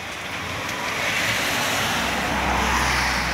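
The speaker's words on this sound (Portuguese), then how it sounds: "Agora que tá forte a chuva aqui" Heavy rain pouring down outdoors, a dense, loud rushing hiss that swells slightly over a few seconds with a low rumble underneath.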